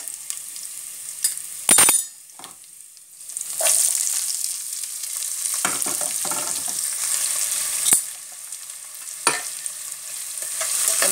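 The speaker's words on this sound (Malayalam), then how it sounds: "നമുക്കിതിലേക്ക് സവാള ഇട്ട് കൊടുക്കാം" Chopped onion goes into hot oil in a pan for an upma made from leftover puttu: a bright sizzle with stirring scrapes and clinks that rises and falls, with a few quieter pauses.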